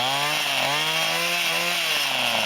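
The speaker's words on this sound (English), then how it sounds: "Now that's the sound of a working carburetor." A Mantis SV-4B tiller's small 2-stroke engine runs steadily after a carburetor rebuild, loud and close with a buzzing, raspy drone whose pitch rises and dips slightly as it revs, with no voices over it.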